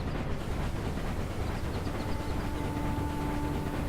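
A steady rumbling train in motion in the Railway Empire game, a continuous loud rolling drone with a faint tonal hum appearing partway through, no talk.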